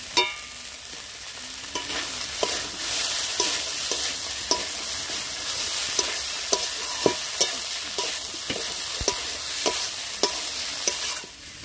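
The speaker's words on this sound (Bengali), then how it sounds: "এবারে দিয়ে দেবো ভেজে রাখা চিংড়ি মাছগুলো" Fried prawns stirred into sizzling banana flower and softened potatoes, a dense steady frying hiss with regular spatula scrapes and taps repeating roughly every second, close up and without talk.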